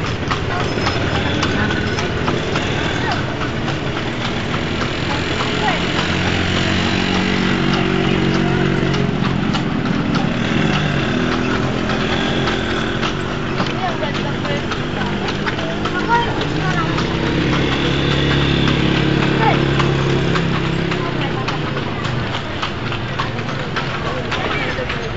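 Hooves of a horse pulling a calesa clip-clop steadily along a road in a brisk, even rhythm, close and continuous, while people talk over them.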